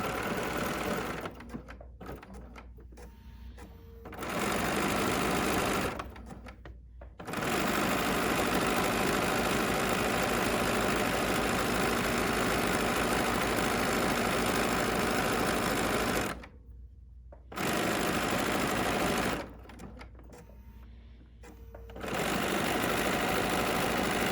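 A BERNINA sewing machine stitches a seam joining two fabrics over batting, pivoting with a freehand system, running in long steady bursts broken by several short pauses.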